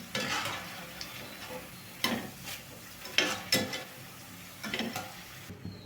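Ivy gourd (dondakaya) pieces frying in oil for a dondakaya 65 fry, a soft continuous sizzle broken by several scraping stirs and clatters of a spoon against the pan, with no voices.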